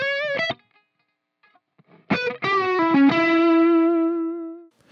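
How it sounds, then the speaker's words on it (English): An electric guitar plays a short lick through effects, with one quick phrase, a pause, then a flurry of notes ending in a long sustained tone, close with no voice. "This is what that passage should look and sound like with just guitar."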